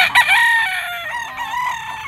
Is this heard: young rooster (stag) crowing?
yes